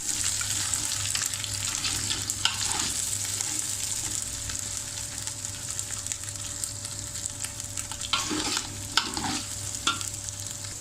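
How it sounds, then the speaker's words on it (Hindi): Spoon stirring chicken haleem in a pot on moderate heat, a steady sizzle with repeated scraping strokes that grow more prominent toward the end, over a faint constant hum. "साथ इसमें चम्मच हिलाते हैं ताकि ये नीचे से लगे ना"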